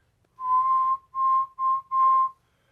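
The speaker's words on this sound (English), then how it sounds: "for the normal whistling that I think most people would do is just kind of like you pucker" A person whistles through puckered lips, four clear sustained steady-pitched notes, close and alone, with short gaps between them.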